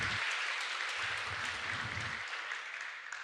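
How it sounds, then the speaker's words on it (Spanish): A church congregation applauds in a steady wash of clapping, moderately quiet and slightly distant, fading a little toward the end with some low rumble underneath. "Dense un aplauso a ustedes mismos."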